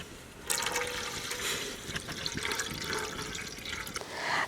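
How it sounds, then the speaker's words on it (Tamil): Water poured into a pan for heating jaggery in a kitchen, a continuous splashing, rushing pour that starts abruptly and runs steadily, close and moderately loud. "நம்ம வெல்லம் காய்ச்சறதுக்கு இதில் தண்ணி ஊற்றி சூடு பண்ணிக்கலாம்"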